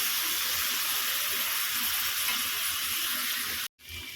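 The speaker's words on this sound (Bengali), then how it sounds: "দিয়ে দেব সেদ্ধ হওয়ার মতো জল" Water poured into a pan of drumstick (sajna data) curry with ground spice paste, salt, turmeric and chilli powder: a steady, loud rushing splash and sizzle lasting nearly four seconds, then cutting off abruptly.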